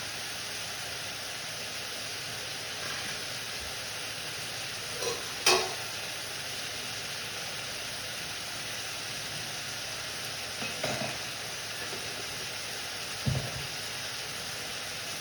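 Steady, even sizzle of country tomatoes frying in a pan, a continuous hiss broken by a few soft utensil knocks and scrapes.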